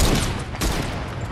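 A brief, loud burst of rapid gunfire in a Fortnite match, dense overlapping shots filling the moment with no speech.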